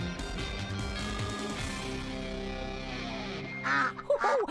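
A pet duck quacks in a radio commercial, a few nasal quacks near the end following a stretch of sustained musical tones.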